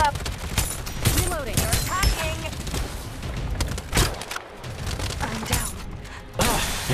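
Rapid bursts of gunfire echo through a Farlight 84 match, with the shots fairly loud and near. Mechanical clicks and game sound effects overlap them continuously.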